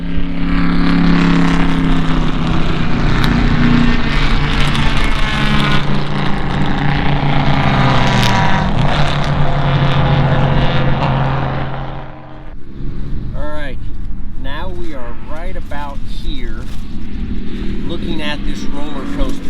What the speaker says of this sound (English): this was top of 4th gear, about 111 miles an hour, and I was barely tapping the brake for this right-hander